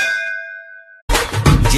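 A bell rings out with a clear metallic clang that lingers and fades, then cuts to a sudden burst of loud, dense broadband sound.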